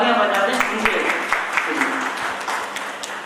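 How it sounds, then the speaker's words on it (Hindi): An audience applauds at a mushaira book launch, with a dense, continuous patter of many hands clapping in a hall. A voice speaks over the clapping. "तो आप लोग एक बार जोरदार तालियां बजा दें उनके"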